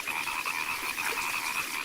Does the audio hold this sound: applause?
no